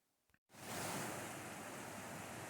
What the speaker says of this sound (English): This sequence of waterfalls just cascades into the south end of the lake